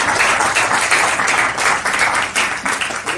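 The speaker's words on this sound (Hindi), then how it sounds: "चाय वाले ताली बजाए" Audience at a Hindi comic poetry recital clapping loudly together, a thick continuous burst of hand claps from a nearby crowd lasting throughout without pause.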